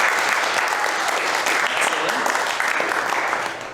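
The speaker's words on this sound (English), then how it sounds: "Give yourselves a round of applause for coming out for some live aerials." An audience at a student aerials showcase applauds steadily, a dense wash of clapping holding strong for a few seconds before tapering off at the end.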